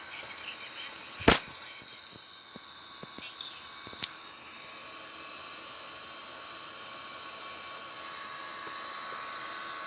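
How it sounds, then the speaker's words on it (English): Both engines of an Airbus A330 spool up during start, a steady broad turbine whine and roar that holds evenly throughout, with a couple of brief sharp clicks early on. "this is the startup of the Airbus A330 engines, both the left and right engine"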